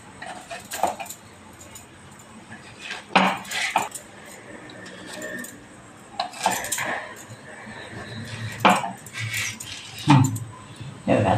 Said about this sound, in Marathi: आता आपण एक चमचा घ्यायचा आणि चमच्यानं त्यातल्या बिया काढून टाकायच्या